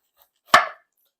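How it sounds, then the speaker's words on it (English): A sharp knife slices down through the side of a pineapple in one short, crisp chop, a single close cut lasting well under a second with no talk. "Now we're just gonna cut the sides off of this."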